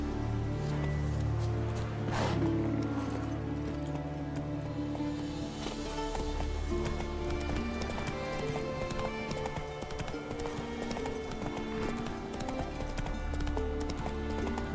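Roach the horse clip-clopping in The Witcher 3, a steady walking hoof rhythm with a brief whinny early on, heard alongside in-game music and ambience.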